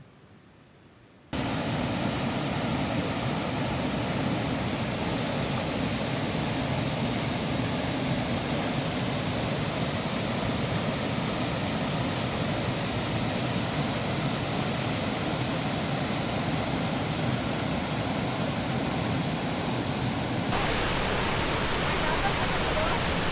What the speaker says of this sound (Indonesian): Ada air terjun indah di depan mata